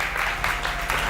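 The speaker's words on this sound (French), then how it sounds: "Applaudissez très fort." Church audience applauding loudly, a dense continuous wash of clapping with slight swells, heard up close and alone.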